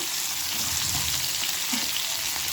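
Spices for a popu tempering sizzle in hot oil, making a steady, loud, bright frying hiss that holds unbroken throughout.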